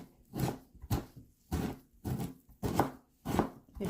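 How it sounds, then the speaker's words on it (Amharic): Collard greens (gomen) are chopped with a knife in steady, evenly spaced strokes, six or seven crisp thuds on a board over a few seconds, close and alone without talk. "እንደዚህ ተደግሞ ነው የሚከተፈው"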